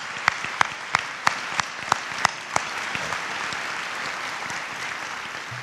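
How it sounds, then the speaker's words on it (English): A round of applause at a high school Veterans Day ceremony for a veteran about to turn 93, opening with several distinct loud claps before settling into a steady wash of crowd clapping. "Let's give another round of applause for that."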